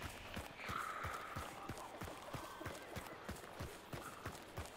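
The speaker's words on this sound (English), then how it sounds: "I heard a horse again." Horse hooves in a night-time hunting video game, a quick regular clip-clop of a running horse heard faintly at a distance under a steady background noise.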